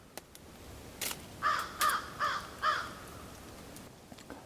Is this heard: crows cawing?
yes